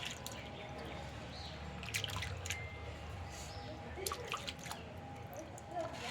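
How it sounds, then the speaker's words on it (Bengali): Soaked lentils are rubbed by hand in water to loosen their husks, producing soft, close sloshing and squishing with scattered drips, while a voice talks quietly underneath. "এই দেখুন বারবার জল দিয়ে এটাকে বারবার ঘষলে খোসাগুলো উঠে যায়"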